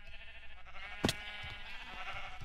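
A video-game sheep bleats with a brief sharp call over a steady bed of layered game music and ambient tones.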